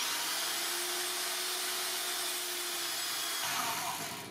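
Drill boring a hole through brass stock, a steady whining hum with a sustained tone that cuts out near the end as the bit breaks through, then a brief rougher scraping.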